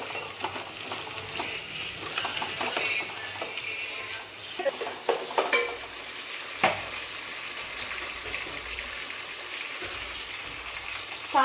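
Okra sautés and is stirred in a pan of oil, a soft continuous frying hiss with intermittent spoon scrapes and knocks, and a voice talking faintly in the background.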